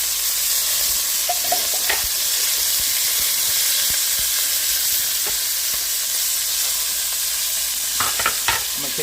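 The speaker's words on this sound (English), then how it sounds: "So then I'm gonna sear that side for 2 minutes, 2 to 3 minutes." Pot roast meat searing in a hot pan gives a steady, broad sizzle throughout, with a few sharper crackles and spatters near the start and a cluster near the end.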